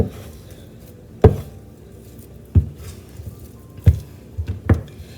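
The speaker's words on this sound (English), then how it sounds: "You don't need to knead this very heavily." Homemade sandwich bread dough is worked by hand with a scraper, giving a few soft, close thuds and squishy slaps at irregular intervals over a quiet background, with no talking.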